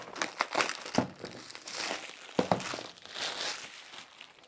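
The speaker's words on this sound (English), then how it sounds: "Let me put my knife in between it and tear off this foil" Foil seal on a Welock smart lock box slit and torn open with a knife, giving soft crinkling and crumpling bursts with a few sharper rips, close and fairly quiet.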